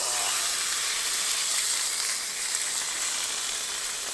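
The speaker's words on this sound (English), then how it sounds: "Just want it to sear on a relatively high heat." Marbled meat sears with garlic in a hot pan at a winter mountain campsite, giving a loud, continuous hissing sizzle that holds steady throughout with no talking.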